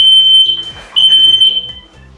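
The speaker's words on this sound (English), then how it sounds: "okay, that was the fire alarm." A kitchen smoke alarm goes off while food fries, sounding loud, piercing high-pitched beeps in quick bursts close by, with frying and kitchen clatter underneath.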